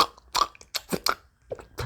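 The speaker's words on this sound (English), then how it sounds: "so loud, chewing" Loud, close-up chewing of food, with crunchy bites and wet smacking arriving in irregular bursts and short pauses in between, with no talking.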